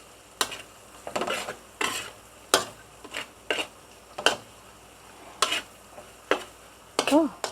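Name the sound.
stir frying pineapple chicken in a pan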